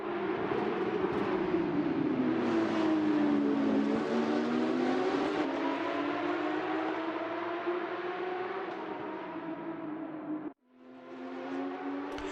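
Porsche 911 GT3 RS race car engine at Donington Park in a racing video game, a loud sustained high-revving wail with pitch sweeping up and down through gear changes, briefly cutting out near the end before resuming.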